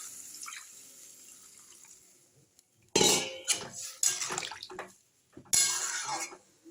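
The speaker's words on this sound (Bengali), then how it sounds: "এবার আমি সবজিটা সেদ্ধ হওয়ার জন্য আমি জল দিয়ে দেব।" Water splashes and pours into a cooking pot of cauliflower and rohu fish curry in a kitchen, starting after a quiet stretch, loud and close in several bursts with clattering of pot or utensils.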